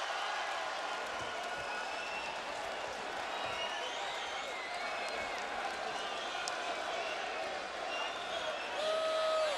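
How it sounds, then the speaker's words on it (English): Boxing arena crowd at the Tomasz Adamek vs Johnathon Banks heavyweight fight, a steady roar of murmuring and cheering that fills the whole stretch, with a commentator talking over it. "Boy, what a crowd here."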